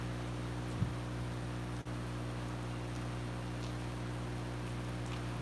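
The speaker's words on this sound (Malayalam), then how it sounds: "മഴ ഒന്ന് കുറയുന്നുണ്ട്" Steady rain falls on surfaces, easing off, as a constant soft wash with a low hum beneath and a couple of faint knocks.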